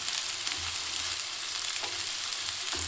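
Onion frying in a pan for pav bhaji gives a steady, fairly quiet sizzle with faint stirring scrapes, continuous and close, with no talk.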